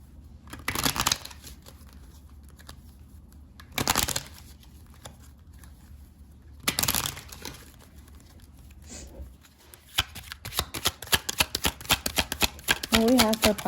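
Oracle cards are shuffled for a tarot reading in bursts of riffling and flicking, three separate bursts at first, then a denser run of rapid card slaps near the end, close and alone.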